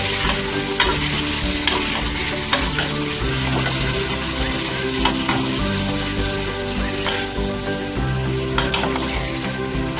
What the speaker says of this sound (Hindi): आपने ऑयल को गर्म करके उसमें बीफ डाल देना है। इसको अच्छे से मिक्स करना है